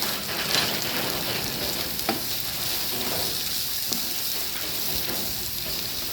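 Pasta ingredients sizzling in a frying pan while being stirred, a continuous crackling hiss with occasional scraping clicks of the utensil, close and steady, no voices.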